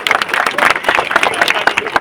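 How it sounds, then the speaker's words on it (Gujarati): An audience at a community gathering claps loudly for Bharatbhai, the event organiser, with a dense, steady patter of many hands lasting about two seconds. "એમના માટે જોરદાર તાળી થઈ જાય"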